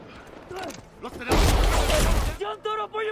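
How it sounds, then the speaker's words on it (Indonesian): Gunfire exchange in an action film set among cartel and mafia fighters: a dense, loud burst of overlapping shots and booms for about a second, preceded and followed by voices and music-like tones. "terjadilah baku tembak antar keduanya"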